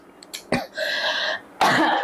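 A single person coughs sharply several times in short bursts, close and fairly loud, with a brief throat-clearing quality and quiet gaps between the coughs.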